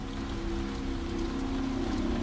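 Freezing rain falls in a steady, soft patter during an ice storm, continuous and even over a low hum, with no voices.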